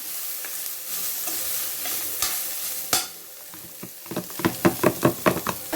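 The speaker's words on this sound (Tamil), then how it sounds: "அதையும் போட்டு இதில் வதக்கிக்கலாம்" Grated coconut sautéed and stirred in a pan for an old-style sweet limed fish recipe: steady sizzling frying hiss with a few sharp knocks, then a run of rapid scraping stir strokes toward the end, close and without talk.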